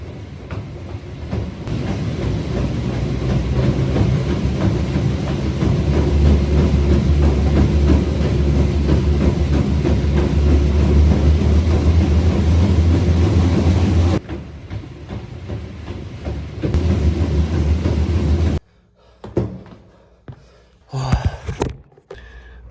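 A treadmill's steady mechanical rumble with rapid rhythmic thudding of interval running continues for a long stretch, then cuts out into quieter bumps and clatter.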